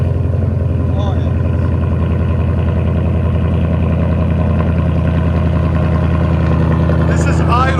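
A 2024 Ford F-350 with a 6.8L V8, X-pipe and straight pipes idling after a cold start, giving a loud, steady, deep rumbling exhaust pulse close by that runs throughout without a break.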